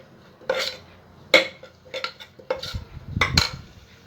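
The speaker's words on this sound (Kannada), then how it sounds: "ಅದನ್ನು ಒಂದು 2 ಸೆಕೆಂಡ್ ಚೆನ್ನಾಗಿ ಹಿಂಗೆ ಫ್ರೈ ಮಾಡ್ಕೊಳ್ಳಿ." Chili powder and turmeric frying in a pan for kadalebele masala sambar, heard as several metal clinks and scrapes of a spoon stirring against the pan, with a soft sizzle underneath.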